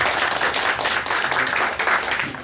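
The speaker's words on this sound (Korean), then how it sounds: "다시 한번 발표를 해주신 확철주 선생님께 큰 박수 좀 부탁드리겠습니다" An audience claps in sustained, dense applause for a presenter at a Bucheon forum on disability welfare policy. The clapping stays steady and fairly close for the whole stretch, with no voices over it.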